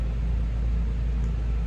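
An NPS 5500 inverter generator runs outside, a steady low rumbling drone with a broad hiss, continuous and unchanging throughout, heard at a distance with no talk.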